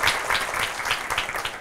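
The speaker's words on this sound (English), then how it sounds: "So with a clap." An audience at a toppers' session claps to welcome a special guest, a brief burst of scattered, uneven hand claps that stays fairly close and loud.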